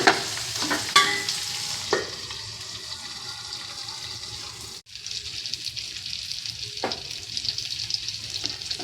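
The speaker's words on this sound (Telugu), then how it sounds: "ఉల్లిపాయలు వేగడానికి కొంచెం ఉప్పు కూడా వేసుకుందాం. ఉల్లిపాయలు బాగా ఫ్రై అవ్వాలి." Onions frying in a pan with salt for Telugu bitter gourd pulusu: a loud, steady, hissing sizzle near the microphone, broken by a few spatula knocks and a short drop partway through, no talking.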